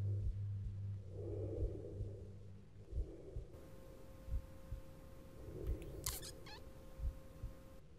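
Small cat creatures in the horror video game Cry of Fear give a couple of soft mewling cries over a low droning hum, with faint thumps and a brief high squeal later on.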